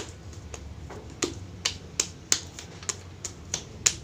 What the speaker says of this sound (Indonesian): Lempung ini untuk mau buat ini ditepuk-tepuk dulu biar pori-porinya mengecil